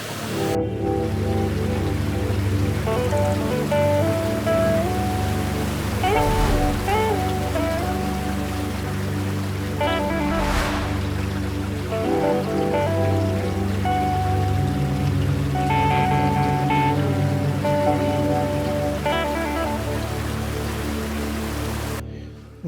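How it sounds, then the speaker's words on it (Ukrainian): Steady broadband rushing of water from the upper part of a waterfall in the Bystrytsia valley, Ukraine, runs throughout, with tonal, melodic sounds layered on top. "Оце верхня частина водоспаду"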